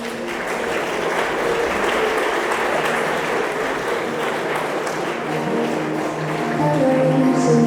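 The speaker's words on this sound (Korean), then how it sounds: "큰 박수로 신부를 환영해 볼까요?" Wedding guests applaud the bride's entrance at a ceremony, steady dense clapping throughout that swells slightly near the end, with faint music underneath.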